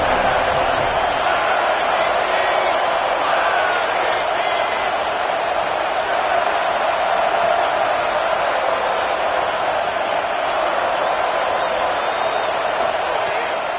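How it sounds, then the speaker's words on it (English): Simulated stadium crowd noise in a college football video game with Florida State playing Georgia: a steady, dense wash of fans roaring throughout, loud and continuous with no breaks. "This crowd ready to make its presence known."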